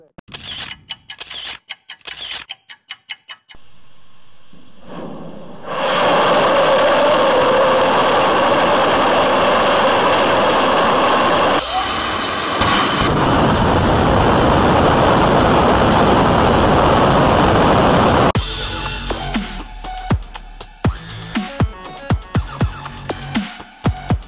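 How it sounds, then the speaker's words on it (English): A rocket engine ignites and a launch vehicle lifts off, building from sharp clicks into a loud, continuous broadband roar that holds for most of the clip before breaking into crackling and clatter near the end. "Ignition sequence start."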